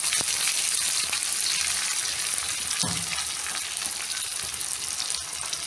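Oil sizzling steadily in a hot pan as extra oil is added for cooking kappa (tapioca), a continuous bright hiss with one brief louder splutter partway through.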